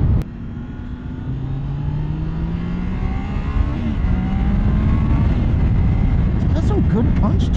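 A Triumph Daytona 660 middleweight sport bike accelerating, its engine note rising steadily in pitch as it pulls hard, heard continuously from the rider's position with wind rush and someone talking over it.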